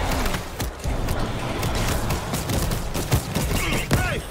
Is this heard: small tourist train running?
no